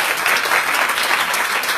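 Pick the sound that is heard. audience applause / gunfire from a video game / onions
audience applause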